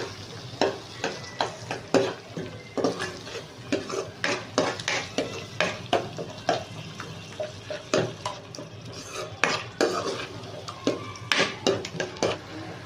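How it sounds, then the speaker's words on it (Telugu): A spoon stirs curd into a potato and rajma (kidney bean) curry in a pan, making a steady run of close, quick scraping and clinking strokes with light sizzling beneath. "ఇప్పుడు అంతా మిక్స్ చేసుకుందాం"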